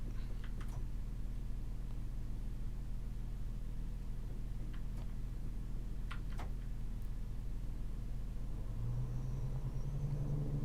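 BR Class 170 Turbostar diesel train on the Midland Main Line, heard from inside: steady low engine drone and rumble with a few sharp clicks, and a rising tone near the end as it accelerates.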